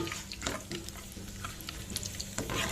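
Four red chillies frying in hot oil as a tempering, a soft sizzle broken by scattered stirring scrapes, close and fairly quiet, with no voices.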